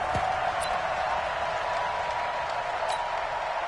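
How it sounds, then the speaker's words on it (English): Stadium crowd noise in an American football video game, a steady broad roar of cheering and applause that holds at an even loudness throughout, close and continuous with no pause. "this crowd loves it as their guys hold on the opening drive"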